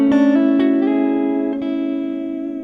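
A guitar plays a short chord-melody phrase, a few plucked notes moving over sustained chord voicings toward target notes, ringing clearly on its own with no talk.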